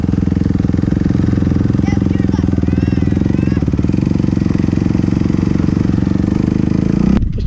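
A dirt bike engine drones loudly and steadily nearby as the rider attempts a slow wheelie on a rainy ride, with faint voices in the background before an abrupt cut near the end.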